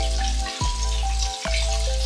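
Ground beef sizzles steadily in a pan, a close, even frying hiss with a low hum underneath and two brief dips where the sound is interrupted.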